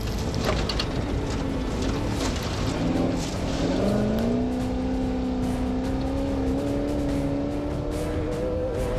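A Pro Class race car runs hard on a track and swerves off it, its engine whining loud and continuous, the pitch dipping and then climbing again as it goes.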